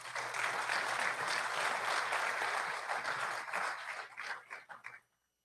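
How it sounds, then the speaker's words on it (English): Applause from the audience at a mayoral debate in Hickman, a steady wash of clapping held for several seconds, then thinning to scattered claps and stopping. "Please offer them and yourselves a round of applause."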